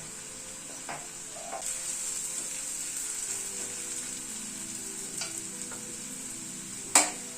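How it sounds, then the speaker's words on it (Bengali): Onions fry slowly with a little turmeric in a hot pan, sizzling steadily with a constant hiss, broken by occasional stirring scrapes and a sharp utensil clank near the end. "যদি ধীরে ধীরে ভাজা হয় তাহলে কিন্তু পেঁয়াজটা ভাজাটাও ভালো হয়"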